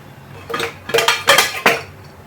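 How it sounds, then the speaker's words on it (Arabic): A metal lid set onto a pot of potatoes simmering in water, giving several close, sharp clinks and clatters of metal on metal within about two seconds. "غادي نغطي عليها وغادي نخليها طيب مزيان"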